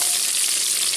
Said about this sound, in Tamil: எண்ணெய் காஞ்சிருச்சு, கடுகு போட்டுக்கலாம், வெங்காயம் போட்டுக்கலாம்